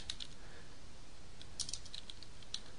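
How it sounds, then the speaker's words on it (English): Someone typing a website address on a computer keyboard, a short run of light, quick key clicks close by over a steady background hiss, with no talking. "we'll type our website name instead of this one that it's got in there"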